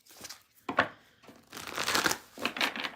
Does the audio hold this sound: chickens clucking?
no